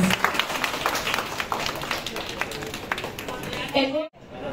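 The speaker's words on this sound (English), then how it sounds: "A round of applause!" Dense applause from a crowd, steady clapping with a few voices mixed in, ending abruptly.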